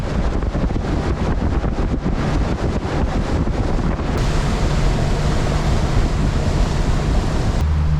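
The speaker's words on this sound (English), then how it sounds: "Oh, the wind's settled down a little bit too." Wind blows by a creek at dusk in a steady, loud, unbroken rush that buffets the microphone for the whole stretch, with no voices.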